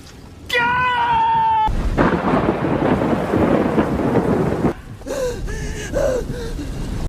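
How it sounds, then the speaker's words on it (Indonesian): Heavy rain pours down with a deep rumble of thunder, a loud, dense burst for a few seconds between stretches of other sound. "Tepat saat turun hujan"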